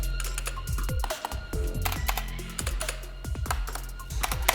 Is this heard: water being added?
no